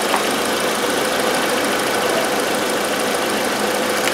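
A 2005 Volkswagen Passat 1.8T's A/C compressor clutch runs with a constant, even mechanical whir and hum, loud and close, with no breaks or talking.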